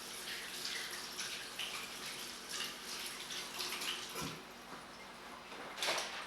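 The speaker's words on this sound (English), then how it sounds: "Wash this off my hands too." Hands are rinsed under a running kitchen tap, giving a steady broadband water rush with faint splashing shifts throughout, heard alone without talk.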